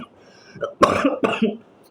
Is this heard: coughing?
yes